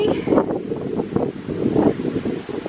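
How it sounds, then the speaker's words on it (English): Gusty wind buffets the microphone in low rumbling bursts, loud and close, with no talking. "ooh, it's windy."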